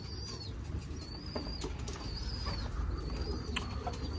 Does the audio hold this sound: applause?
no